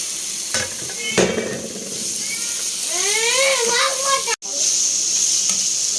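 Chicken frying in a pan with garlic and onion, a steady close sizzle with occasional stirring scrapes, while a voice talks briefly over it and a voice is heard in the background.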